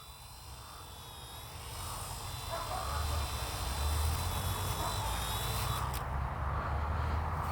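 An Eachine E110 drone flies and descends to land, its steady high-pitched rotor whine rising slightly in loudness and holding close and continuous before cutting off near the end, with faint background noise.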